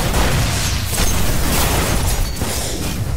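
Grenade blast in the Destiny Crucible multiplayer shooter, a loud, dense burst of explosive noise that fills the short moment and is followed by a rough, continuous rumble of gunfire and effects.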